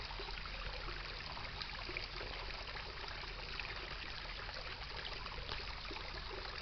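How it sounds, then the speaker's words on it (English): Water running out of an open fire hydrant, a steady, moderately distant rushing and trickling that stays constant throughout, with no voices. "And the dirty water running out."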